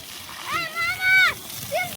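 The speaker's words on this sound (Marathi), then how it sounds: "फक्त मुरमावर पाणी मार, बाकीचं पाणी मारू नको" Water sprayed and splashed onto murum fill at a house construction site, a steady wet hiss and splatter running beneath children's and adults' voices talking close by.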